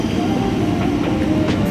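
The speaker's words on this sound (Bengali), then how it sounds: "কিছুক্ষণ অপেক্ষার পর আমাদের হাওড়া ব্যান্ডেল ট্রেন ঢুকে গেল।" A Howrah–Bandel local train pulls into a station, a loud, steady rumble of wheels and carriages with faint squeals, heard close for a brief moment.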